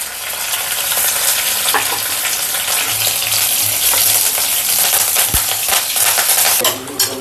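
Green chillies and curry leaves crackle loudly in hot oil with mustard seeds, a dense continuous sizzle stirred by a spoon, with a brief clatter of utensil on pan near the end.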